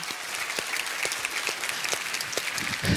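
An audience at a televised singing-contest blind audition claps steadily, a dense continuous wash of applause from a full hall with no voices over it.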